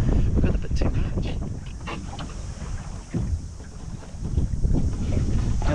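Strong gusty wind roars across the microphone aboard a small Pathfinder sailboat in gusts near 20 knots, a loud continuous buffeting that swells and eases, with water and hull noise underneath.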